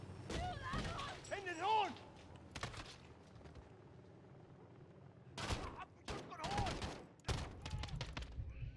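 Sharp bursts of gunfire in Call of Duty: Modern Warfare, several single shots and short volleys, with voices talking over and between them.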